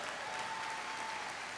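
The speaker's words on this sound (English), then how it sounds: "Let's give a round of applause to that team as well" Audience applause for a school staff team at an end-of-year awards assembly, a steady, even patter of clapping held at moderate level for under two seconds.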